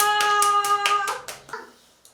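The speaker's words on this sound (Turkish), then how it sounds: "Alkışlayalım canı." A few hands clap together in a short, quick burst of roughly eight claps, close and bright, ending with a couple of softer trailing claps.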